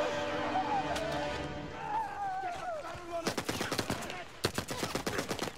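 Rapid bursts of gunfire from a fast-paced shooting video game crack out loudly in the second half, coming in dense volleys after a stretch of tonal, voice-like sound.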